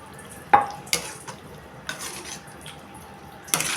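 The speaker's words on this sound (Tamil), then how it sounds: "ரெண்டு டம்ளர் தண்ணி." Water from two tumblers goes into a pan of Guntur chicken curry amid clattering metal and stirring. Sharp clinks of utensils against the pan sound over a soft sizzle, close by, with no talking.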